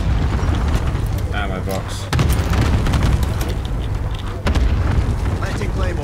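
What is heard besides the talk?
cluster strike explosions in a video game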